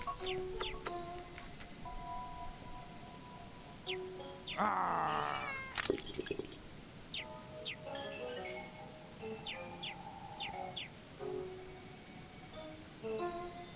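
A cat in the video game The Little Acre meows in a few short, clear calls. A louder, longer cry comes near the middle, over a faint rain-like background and light game effects.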